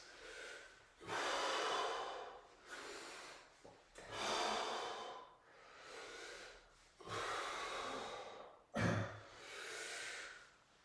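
Heavy, audible breathing during a workout exercise, a slow series of long, loud inhales and exhales close to the microphone, with a sharp snort-like gasp near the end.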